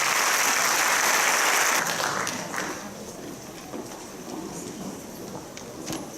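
Audience applause for graduating seniors at a high school senior awards ceremony, loud and dense for under two seconds, then easing into scattered, softer clapping and room noise.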